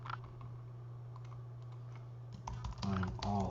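Computer keyboard typing in a quiet room: a run of light key clicks with a low steady hum underneath, then a denser burst of keystrokes near the end, close and moderately soft.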